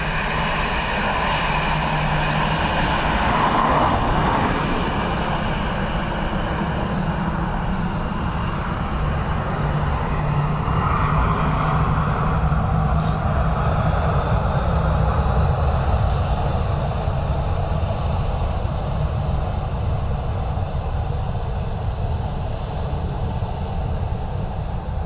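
A Ryanair airliner lands on runway 28 left at Dublin Airport in gusty crosswinds, giving a steady, moderately distant jet roar that rumbles on evenly for about twenty-five seconds with no voices.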